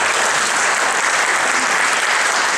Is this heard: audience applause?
yes